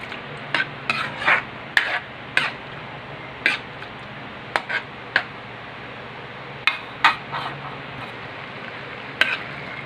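A spoon stirs sago pearls in a cooking pot, making repeated short scraping and knocking strokes against the pot in an uneven rhythm. The sound is close and alone, over a soft steady background hiss.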